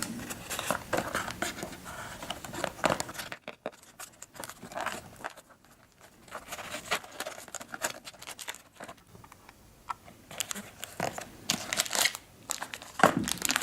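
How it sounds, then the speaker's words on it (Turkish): Unboxing of a Xiaomi Mi Band 5: close crinkling of plastic wrap and rustling, tapping packaging handled in irregular bursts, with a quieter stretch midway. "kutusunu açmaya başlayalım"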